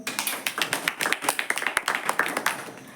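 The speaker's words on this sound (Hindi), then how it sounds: "जोरदार तालियां हो" A small audience at a talk on the harms of firecrackers claps at close range, with distinct, uneven individual hand claps in a loose rhythm rather than a dense roar.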